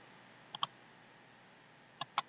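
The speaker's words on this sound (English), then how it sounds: "I'm going to right click, copy," Computer mouse right-clicks on a desktop: two quick double-click pairs, crisp and close, spaced about a second and a half apart against a quiet background.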